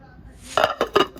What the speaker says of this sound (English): I put the lid on.